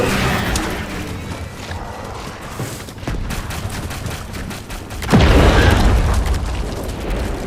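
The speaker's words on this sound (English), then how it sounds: "Throwing grenade!" A grenade blast in the sci-fi shooter Starship Troopers: Extermination, a sudden loud boom partway through that rolls into sustained rumbling, over a din of distant gunfire and battle noise.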